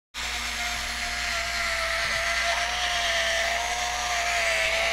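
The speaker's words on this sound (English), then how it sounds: "It's going around this actually very quickly." A One Touch electric can opener runs around the rim of a can, giving a steady, close motor whine with a high mechanical tone that starts abruptly and continues without a break.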